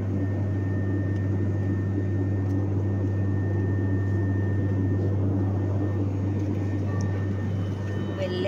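Steady low engine drone fills a small passenger plane's cabin, constant and loud, with a broad roar and faint hum throughout and no voices standing out.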